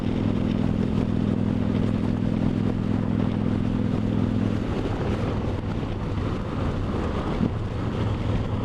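A Victory Judge motorcycle cruises at 70 mph around 2,550 RPM, its engine a steady low drone with a held tone for the first half, heavily mixed with rushing wind noise across the microphone.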